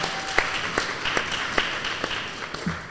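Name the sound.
audience applause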